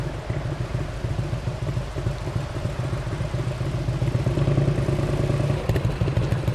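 A 2000 Indian Chief motorcycle with an S&S engine idles and rumbles steadily nearby, its deep exhaust thumping in a low, even pulse that swells slightly louder toward the end, with no voices.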